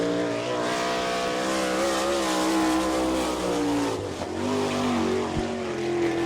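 A winged sprint car on a qualifying lap at Attica roars steadily at high revs, its engine pitch rising and falling as it circles the dirt oval, loud and continuous with no talk.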